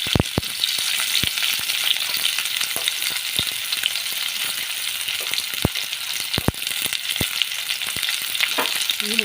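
Onions fry in hot oil for mint rice with a dense, continuous sizzle, close and steady throughout. Sharp crackles and pops punctuate it at irregular intervals.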